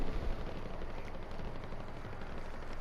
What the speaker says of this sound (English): someone called in an airstrike over the area I was just shooting at